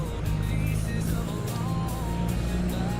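A 1998 Peterbilt 379 long-nose truck with a straight pipe and a 500 Detroit engine, fitted with hothead injectors, a PDI computer and a turbo, rumbles at a steady idle in a farming video game, loud and continuous.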